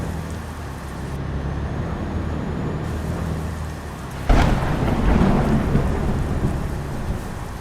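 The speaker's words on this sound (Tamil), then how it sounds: "மழை டைமில் வந்திருக்கோம்." Steady rain hisses through a thunderstorm in Euro Truck Simulator 2 while a truck runs a delivery from Sweden to Germany. Partway through, a loud thunderclap breaks in and rumbles over the constant downpour.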